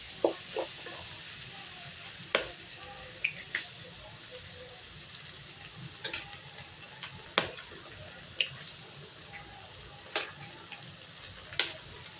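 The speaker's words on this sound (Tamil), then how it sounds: "இப்போ நம்ம முட்டையை உடச்சி ஊற்றிடலாம்." Egg cracked and poured into a sizzling pan of tomato pasta, with a soft continuous frying hiss under scattered sharp clicks and taps from utensils, quiet and close, with no talking.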